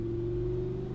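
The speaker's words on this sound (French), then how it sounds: "Allez, là on accélère plus fort." A Lamborghini Huracan on a race track holds a steady, droning engine note with a strong mid tone and low rumble, heard from inside the car, sustained and even without pauses.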